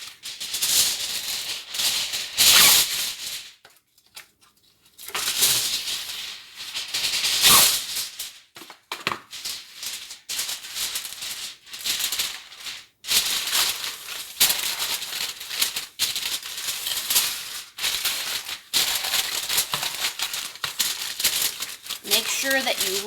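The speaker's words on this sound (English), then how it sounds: "Then you're going to want to wrap your pan in aluminum foil and seal it really well." Aluminum foil crinkles and crackles loudly and close as it is wrapped around a baking pan of baby back ribs and pressed tight at the edges, in long rustling bursts with short pauses.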